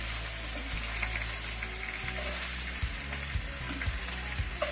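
Mushrooms for beef Wellington brown in a hot pan with a steady, close sizzle and crackle. Occasional stirring scrapes break in, and no one speaks.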